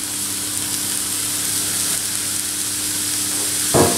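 Leeks, zucchini cut into spaghetti strands and other vegetables sautéing in a pan, giving a steady, even sizzle that stays close and constant, with a brief clatter near the end.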